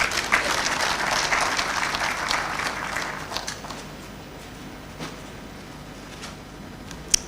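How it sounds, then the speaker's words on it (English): A graduation ceremony crowd applauds steadily for about three seconds, then the clapping thins out to a few scattered claps before fading into quiet room noise. "Please, let's welcome her with a round of applause."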